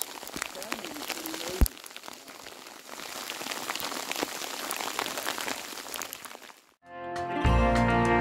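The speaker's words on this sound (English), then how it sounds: "Just started hailing." Hail patters down hard and steadily around a group of riders on horseback in bad weather in the Colorado backcountry. The dense rattling stays close and continuous, then gives way to music near the end.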